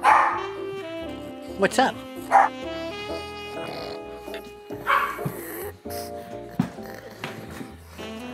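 Dogs yip and whimper close by in short bursts between stretches of casual talk from people in the room.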